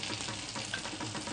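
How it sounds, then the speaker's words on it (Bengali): Grated coconut frying in ghee in a pan, a dense continuous sizzle with stirring scrapes, close and steady with no talk. "নারকেলটা ঘিয়ের মধ্যে নারকেলটা হাফ মতন দিয়ে দিচ্ছি"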